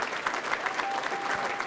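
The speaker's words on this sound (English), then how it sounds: "Give yourself a round of applause." Brief burst of steady audience applause at a gala supporting military service members and veterans, dense clapping from many hands, even and moderately close.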